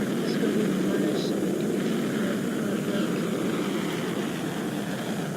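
A Blackbird airplane lands in a flight game, producing a steady, loud engine and air roar that holds evenly throughout without any talk.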